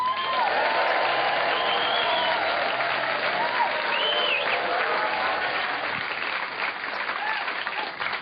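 A theatre audience applauds a stand-up comedian with loud, sustained clapping that fills the room for over eight seconds, with a few whoops and whistles rising above the crowd before it eases slightly near the end.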